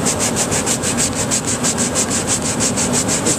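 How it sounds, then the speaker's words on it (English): Wood rough edges being sanded by hand with 120 grit sandpaper: a steady rapid back-and-forth rasping scrape, close and loud, in even rhythmic strokes throughout with no talking. "you want to sand the rough edges out with 120 grit"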